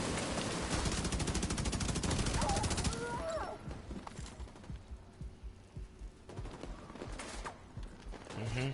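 In Division 2, incoming gunfire hitting the player rattles in a rapid dense burst for about three seconds, then gives way to fainter scattered pops and impacts at a low overall level.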